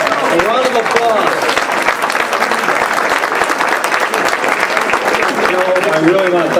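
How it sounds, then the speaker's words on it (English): Steady audience applause at a board meeting, many hands clapping continuously and evenly, with a speaking voice heard faintly over the clapping at the start and end. "round of applause."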